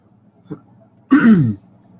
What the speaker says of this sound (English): Clearing my throat so I can keep talking to the people.